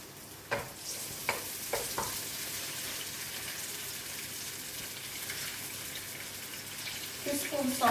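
Diced onions frying in hot oil give a steady low sizzle, opening with a few sharp clinks of a utensil against the pan before settling into an even hiss.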